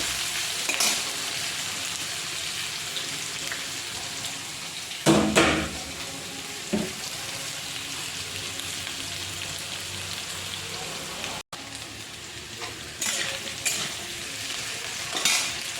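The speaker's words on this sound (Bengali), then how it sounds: "আলুটা ভাজা ভাজা হচ্ছে" Potatoes and onion fry together in a pan, making a steady close sizzle like rain on a hard surface, with a few louder bursts as the pieces are stirred and a brief drop near the end.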